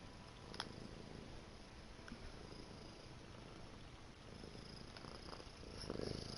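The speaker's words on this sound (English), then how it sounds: "Cat." A cat purrs in a low, continuous rumble that stays faint and steady, with a few small clicks and rustles over a quiet background hiss.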